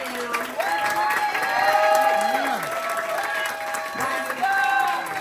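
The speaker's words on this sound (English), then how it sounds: "So, let's applaud him." Audience applause and cheering at an awards ceremony honoring a Broadway producer, clapping swelling over a few seconds with crowd voices and whoops mixed in, moderately loud.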